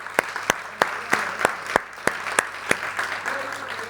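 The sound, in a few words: audience applauding for fathers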